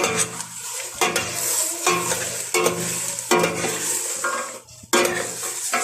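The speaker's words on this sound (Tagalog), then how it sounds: "Tapos haluin natin siya." Food with salt being stirred in a pot, several scraping sweeps of a utensil against the metal in uneven bursts roughly a second apart, close and fairly loud against a faint sizzle, with no talk.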